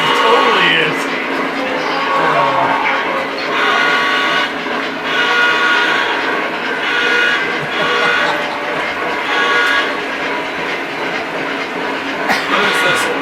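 A BNSF freight train passes with a continuous rumbling roar of railcars, a horn blowing, and voices chatting over the noise.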